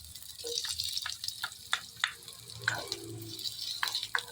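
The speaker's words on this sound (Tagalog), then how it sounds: "Igigisa natin dyan yung ating loya. Sabayin na natin yung sibuyas." Garlic and onion sautéing together in a pan, a soft, fairly quiet sizzle broken by irregular stirring clinks and scrapes, close up with no voices.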